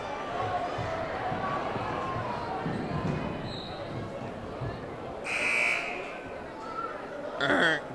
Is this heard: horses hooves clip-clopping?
no